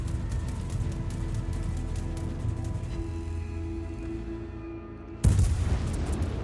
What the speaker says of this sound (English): And we are gonna start shelling this Lenin right here.